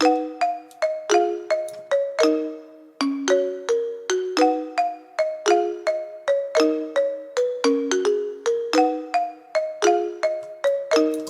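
A bright, plucky synth melody played in quick strummed chords, each note snapping in and decaying fast, looping steadily and loudly with no voices.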